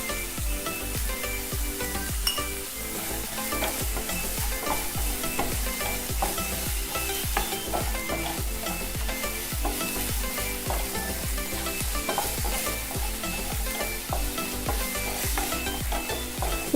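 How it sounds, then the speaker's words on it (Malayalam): Salted onions fry with cloves and cinnamon in a pan for paneer masala, a loud continuous sizzle broken by repeated scraping strokes of a spoon stirring throughout. "ഈ സവാള ശരിക്കും വഴന്ന് വരണം."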